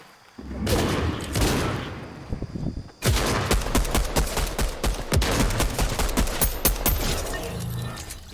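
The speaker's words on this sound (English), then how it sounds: "shotgun." Shotgun fire in the Fortnite video game: dense, loud bursts of gunfire and booming impacts nearly continuous across the clip, with a brief pause before another sustained barrage.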